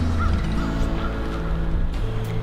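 A handheld owl call imitates a great horned owl, giving a few short hooting notes under a steady low background hum.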